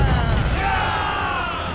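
Ship cannons firing during a naval battle in Assassin's Creed Rogue: a heavy, sustained booming rumble, loud and close, with a low roar filling the moment.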